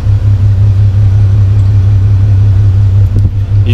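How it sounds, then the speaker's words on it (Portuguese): A Passat CC on air suspension lowering, heard as a steady loud low hum with faint hiss and clicks near the end, close by and without talk. "E tá baixando bonito o carro, hein, velho?"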